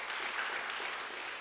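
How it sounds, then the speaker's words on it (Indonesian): Church congregation at a Sunday service applauding, a dense even wash of clapping from many hands that holds steady throughout, moderately distant with no speech. "Tepuk tangan buat Tuhan."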